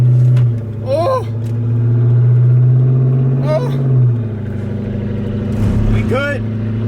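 Car driving along with its rear hatch raised, a steady engine and road rumble running loud beneath people talking and exclaiming.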